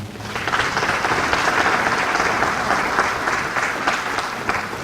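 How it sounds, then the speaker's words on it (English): A crowd at a Dallas suicide prevention and awareness event claps in a full, steady round of applause, many hands blending into a continuous wash that swells quickly and holds for about five seconds. "Round of applause for the great Eric Nadil"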